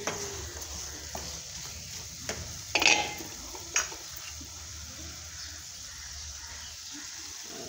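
A quiet, steady sizzle of a spice tempering frying in a pan for an elephant foot yam dish, with a couple of sharp scraping clinks of a spoon stirring against metal.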